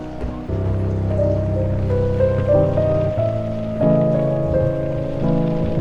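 Steady rain falls in the dark, rainy opening scene of IT (2017), a continuous hiss running beneath loud, sustained tonal music with held piano-like notes and no talking.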